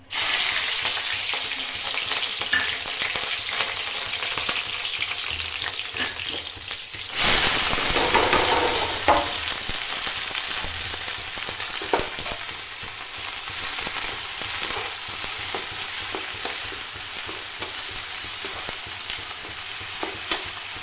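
Onions frying in hot oil with cumin, a continuous dense sizzle with scattered crackles and pops that swells briefly louder partway through, close by and steady throughout, with no talking.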